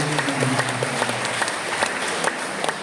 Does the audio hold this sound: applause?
yes